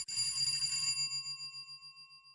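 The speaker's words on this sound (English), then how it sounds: "Inside, distantly, they heard a bell ring." An old-fashioned twist-switch doorbell rings inside a house: a single bright metallic ring that sounds clearly, then fades out slowly with a wavering ring, with no voices.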